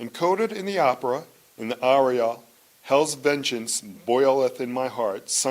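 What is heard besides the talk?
No everyday noises stand out.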